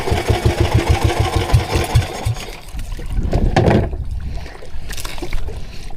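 A boat engine idles close by with a steady low rhythmic chugging that fades somewhat partway through, over water.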